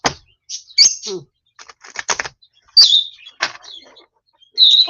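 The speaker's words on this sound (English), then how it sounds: "as you can hear, Mango is screaming out loud pretty good." A pet bird gives loud, sharp high-pitched screams and chirps in separate bursts, mixed with soft clicks between calls.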